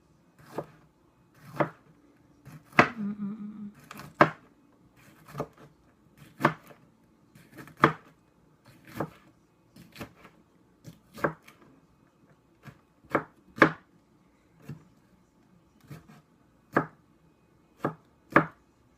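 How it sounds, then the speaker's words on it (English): A knife chops jalapeno into small, fine pieces on a cutting board for easy guacamole, a long run of sharp, close, irregularly spaced strikes with quiet gaps between them. "I'm just gonna chop chop them up a little bit more because I see some big pieces"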